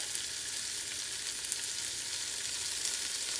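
Minced garlic sizzling in a hot pan for black-eyed peas and rice, a steady, even, close frying hiss that runs throughout without breaks or talking.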